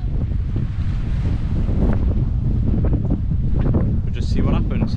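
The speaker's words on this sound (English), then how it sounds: "it's pretty windy, so if you can't hear me properly" Strong wind buffets the microphone on the Bristol Channel coast at Barry, a loud, constant low rumble with some gusting, and someone speaks faintly beneath it.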